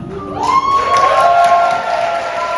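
Wedding guests at a Korean ceremony break into applause and cheering, a loud crowd of clapping hands with raised voices and shouts rising together and holding steady throughout.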